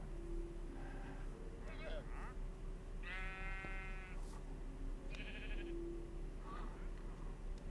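Sheep in the video game Minecraft bleat twice, a wavering nasal baa followed by a shorter one a second later, with a few fainter animal sounds earlier, all over a steady background hiss.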